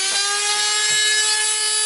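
Dremel rotary tool cutting a recess, a steady high-pitched motor whine holding constant throughout, close and loud, with faint grinding bursts where the bit bites into the material.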